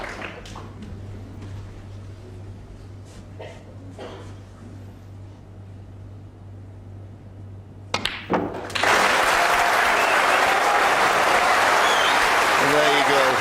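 Applause from a snooker audience greeting a century break at the World Snooker Championship semi-final, starting with a few scattered claps and then swelling into loud, sustained clapping across the arena.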